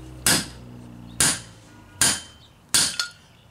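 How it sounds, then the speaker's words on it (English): RCBS inertia bullet puller holding a 10mm cartridge, struck four times at a steady pace, each a sharp, close, ringing knock that decays quickly, the last followed by a small second rap. "I got the 10mm inside the RCBS bullet puller. We'll go ahead and give it a tap."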